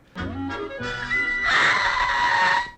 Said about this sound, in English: That is the sound of another witch screaming from Snow White when she fell over at the end.